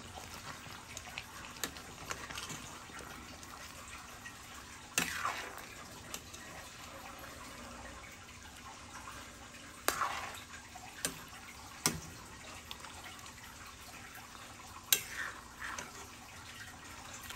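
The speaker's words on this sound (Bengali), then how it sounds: "এবার খুব ভালোভাবে মিশিয়ে দেব।" A spoon stirs a Bengali shukto vegetable curry after ghee goes in, giving soft wet sloshes and scattered clinks against the pot in a faint, intermittent rhythm.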